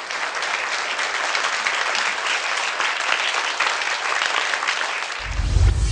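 Sustained audience applause fills a Buddhist vihara event, dense steady clapping from a large crowd for about five seconds before a low rumble at the end.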